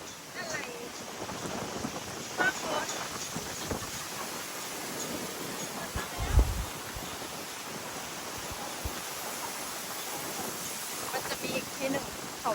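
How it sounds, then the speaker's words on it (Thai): Rain begins falling outdoors in Ratchaburi, a steady soft hiss of drops with occasional louder patters and a low rumble around the middle, while people talk now and then beneath it. "ฝนเริ่มมาแล้วทุกคนเดี๋ยวเราจะเปียกกันเนาะ"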